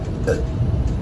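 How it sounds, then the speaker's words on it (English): A short, single burp or hiccup-like gulp from a person who has just chugged two liters of soda, heard up close and alone. "I be feeling like y'all just want to hear me burp."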